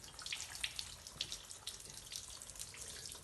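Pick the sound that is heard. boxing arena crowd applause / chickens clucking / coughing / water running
water running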